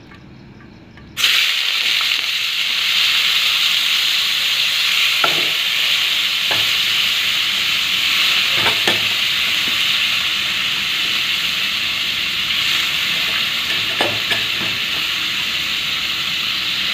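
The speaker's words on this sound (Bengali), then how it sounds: "কড়াইতে আলু ভাজাটা তুলে দেব।" Potatoes fry in a wok with a steady, loud sizzle and hiss that runs unbroken after a short quiet start, broken by a few faint clicks and scrapes.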